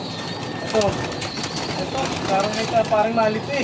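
A pet pigeon held indoors coos softly in short repeated bursts, with light wing or movement sounds, while a person talks over it nearby.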